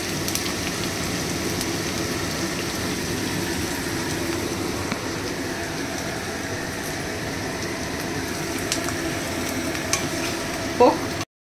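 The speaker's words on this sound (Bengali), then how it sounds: "পেঁয়াজটাকে ভাজবো গোল্ডেন ব্রাউন হওয়া অবধি" Onions fry in oil for chicken ghugni, a dense, even sizzle like steady rain that holds unbroken for several seconds, close by and without speech, ending with a faint clink.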